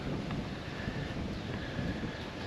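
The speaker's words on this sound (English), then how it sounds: "Oh, that wind's coming up." Wind gusting by the Murray River, a steady broadband rush and buffeting across the microphone with no other clear sounds.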